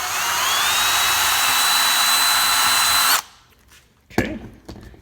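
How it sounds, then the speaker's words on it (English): A power drill drilling into a cabinet side whines loudly and steadily for about three seconds, then stops, followed by a few scraping clatters close by. "I'm just going to go ahead and drill into my cabinet side here"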